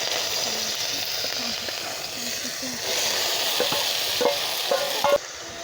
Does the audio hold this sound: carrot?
yes